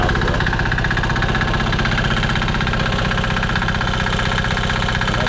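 A small diesel engine runs mounted on a skid just after starting, idling in a loud, steady, close rumble with an even knocking pulse throughout.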